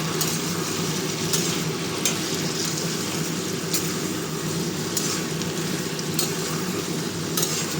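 Chili powder fries in a pan over a dense, continuous sizzle and bubbling. Occasional sharp clicks come from a utensil stirring, and nobody speaks.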